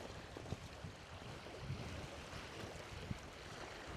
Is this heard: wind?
yes